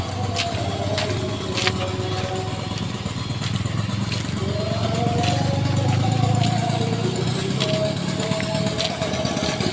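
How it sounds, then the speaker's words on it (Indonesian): A small engine-driven machine cutting steel rebar at a demolition site of hundreds of houses in Karawang runs as a steady mid-pitched drone, with sharp clanks and metallic scraping ringing above it and faint voices in the background. "ini si bapak nih pakai mesin nih kayaknya buat ngegerajiin besi-besi behel nih"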